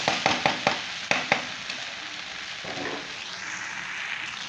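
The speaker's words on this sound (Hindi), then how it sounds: "इसको हम फ्राई कर रहे हैं, तो 10 से 15 मिनट इसी तरह आपको फ्राई करना है।" Okra and onions frying in a pan make a steady sizzle, opened by several sharp stirring clatters before the frying settles into a continuous hiss with no talking.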